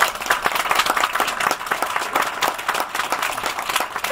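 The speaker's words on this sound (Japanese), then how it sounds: "どうぞ皆様拍手をお送りくださいませ" Audience applause after a calligraphy performance at a shrine festival at Ōtori Taisha, steady dense clapping filling the whole stretch, close and fairly loud, with no voices over it.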